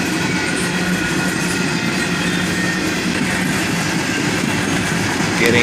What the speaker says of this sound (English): And now we're into a huge cut of hopper cars on the back half of the train